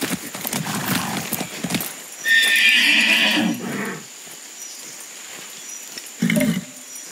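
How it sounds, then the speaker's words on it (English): A horse in Far Cry 6 whinnies loudly amid clopping hooves, then a second shorter snort or neigh follows after a quieter stretch. "Nice horse."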